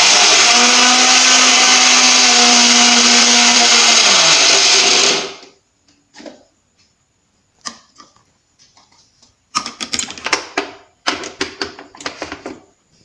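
A mixer grinder whirs loudly for about five seconds grinding a dried herbal hair-growth powder, then winds down, followed by sporadic clicks, knocks and rattles of the jar being handled.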